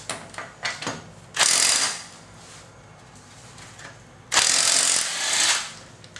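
A cordless impact wrench loosens an 80 foot-pound lug nut: a few clicks and taps, then two loud hammering bursts of about a second each, close and separated by a quieter pause.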